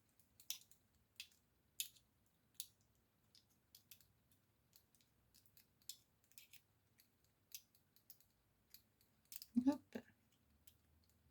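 Paper snipped with scissors while making a handmade card, a series of short, crisp cuts spaced every second or so, close and fairly quiet, with a brief louder rustle near the end and a few soft spoken words.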